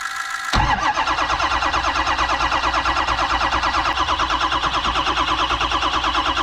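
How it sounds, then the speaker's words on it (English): A Ford F-350 with a 6.0 diesel engine cranks over, the starter churning in a steady rapid rhythm, loud and close, for several seconds without catching. "I want to crank the truck over like this to see if I even get oil to come out of this here"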